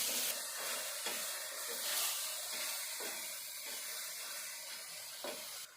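Mushrooms with salt being stirred in a hot pan, a steady steamy sizzle and hiss broken by a series of soft utensil scrapes roughly every half second to second, close and moderately quiet.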